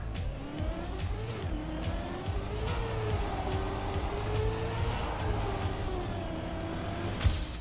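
Racing car in the video game Trackmania, driving a dirt track section: a steady, continuous engine drone with shifting pitch as it accelerates, alone with no talk.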